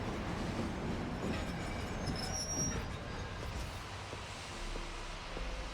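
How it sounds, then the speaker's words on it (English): A train runs in Final Fantasy XIII, with a steady rolling rumble and high metallic wheel squeals near the start, continuing evenly throughout. "The train will leave shortly."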